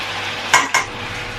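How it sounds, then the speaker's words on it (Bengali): Chicken pieces coated in spices dropped from a ladle into hot oil, giving two short, sharp bursts of sizzle and metal contact over a quiet kitchen background. "তেলের উপরে চিকেনটা ছেড়ে দেবো।"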